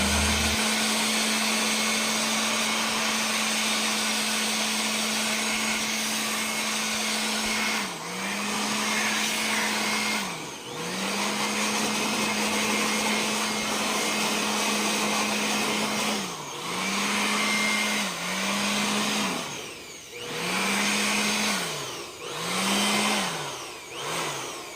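A steady electric blower motor whine drones continuously, dipping briefly in pitch several times as it blows dust off equipment during maintenance, loud and close with no talking.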